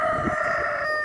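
A rooster crows nearby, a sustained, strained call that holds steady for about a second over a faint background hum.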